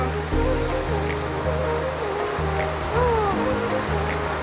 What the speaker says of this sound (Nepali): कति ठुलो पानी परेको